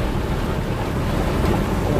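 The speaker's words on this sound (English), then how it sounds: "Yeah, just wait till the rain kind of pass over" Heavy rain pounds steadily outside a stopped vehicle, a dense continuous roar of drumming water with no talk over it.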